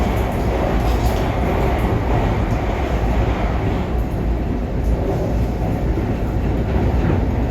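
Steady rumble of an M7 Long Island Rail Road commuter car in motion during heavy rain, a dense low roar with faint rhythmic clatter throughout, close and continuous, no voices.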